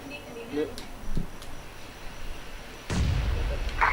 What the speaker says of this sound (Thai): ใครปาระเบิด